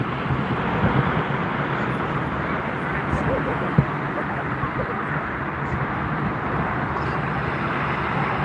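A LOT Polish Airlines Embraer E190 jet at Frankfurt Airport makes a steady, broad engine roar, with a commentator talking over it.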